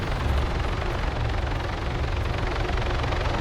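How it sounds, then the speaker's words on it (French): A police helicopter flies overhead, its rotor and engine making a loud, continuous droning roar that holds steady throughout, alone with no talking. "Bah, hélicoptère de police."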